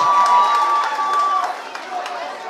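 An audience at a samba rock dance performance claps and cheers in a continuous lively burst, moderately close, with scattered voices calling out over the applause.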